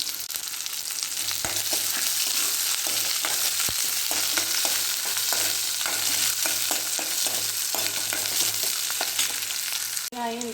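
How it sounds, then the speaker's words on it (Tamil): Mustard seeds and onion fry in a pan for a wild greens dish, giving a steady, close sizzle with small crackles and pops throughout, with no talking. "கடுகு போட்டு பொரியுது வெங்காயம் இருக்குது இதை போட்டு நம்ம வணக்கலாம்"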